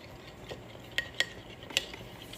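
A metal spoon stirring meat with spices in a pot, a few light clinks and scrapes against the pot's side, quiet and close with no talking.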